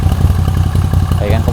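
Moto Guzzi V85TT motorcycle with its stock factory exhaust, a loud, close, lumpy idle with a steady throbbing pulse, someone talking over it.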